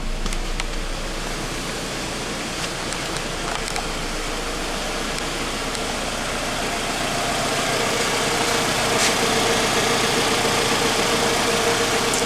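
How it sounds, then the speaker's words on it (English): Car engine idles after an oil change, a steady, even mechanical hum with a broad noisy rumble that holds without change for about twelve seconds, close by and with no talking. "And listen to the engine, make sure it"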